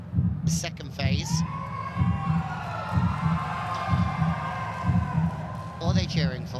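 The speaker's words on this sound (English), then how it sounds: "What are they cheering for?" Indoor crowd at a professional volleyball match between Calicut Heroes and Kolkata Thunderbolts, a steady roar of cheering with rhythmic thumping beats and occasional shouts, loud and sustained throughout.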